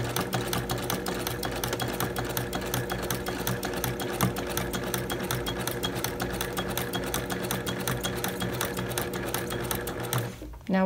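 Sewing machine running a quilt seam with a walking foot, a steady rapid mechanical stitching rattle held loud and even for about ten seconds before stopping abruptly.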